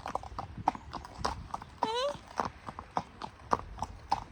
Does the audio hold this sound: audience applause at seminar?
no